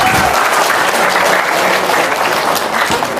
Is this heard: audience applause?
yes